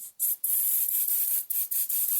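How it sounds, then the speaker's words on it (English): Spray adhesive hisses from an aerosol can in short bursts for adding glitter to a Christmas decoration, five or six close, loud sprays separated by brief pauses, with no talking. "you want to have a spray adhesive like this"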